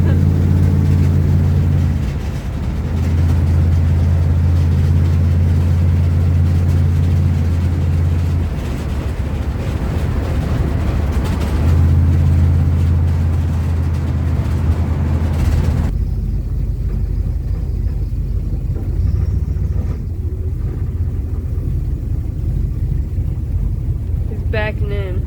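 A 1970s Dodge street van engine droning hard at full throttle, a loud sustained low roar mixed with wind buffeting for over fifteen seconds before easing off to a quieter rumble as people talk inside.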